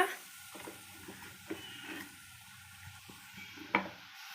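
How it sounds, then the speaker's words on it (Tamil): Raw banana fish fry being stirred in a pan, with soft scraping strokes and a few louder spoon knocks over a faint, steady sizzle, close and fairly quiet. "இப்போ நல்லா கிண்டி விட்டுக்கலாம்."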